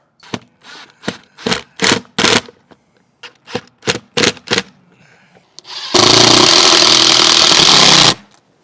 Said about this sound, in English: these screws are stripping out pretty bad using the drill